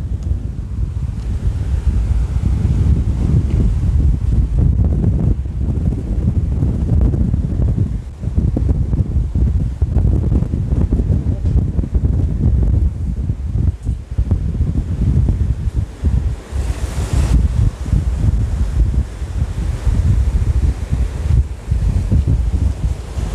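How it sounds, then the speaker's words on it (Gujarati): Strong wind roars over the sea at Bharuch port during stormy weather, a loud, constant buffeting rush with microphone wind noise and breaking waves beneath, no voices. "દરિયાની અંદર પવન પણ ખૂબ જ મોટા પ્રમાણમાં ફૂંકાઈ"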